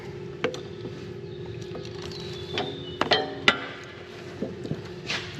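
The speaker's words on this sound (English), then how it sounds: "I don't know if I've ever used this ratchet yet." Long-handled ratchet clinking as it turns a hose fitting on a broken bulldozer undercarriage, with a few sharp metallic clicks and taps over steady low engine hum and some background noise.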